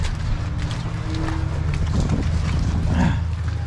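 Cows shuffle and clop through a dairy barn, hooves thudding in a steady, close rhythm over a dense low rumble of barn noise, with no talk.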